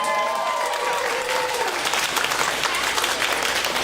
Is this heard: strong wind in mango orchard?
no